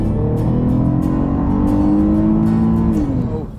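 A 2017 Buick LaCrosse accelerates hard from inside the cabin, its engine note rising steadily in pitch and volume for a few seconds before easing off at the end.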